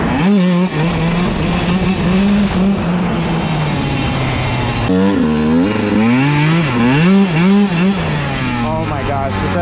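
Dirt bike fitted with homemade studded tires riding on ice, its engine loud and close, droning steadily and then revving in repeated rising and falling bursts through the second half.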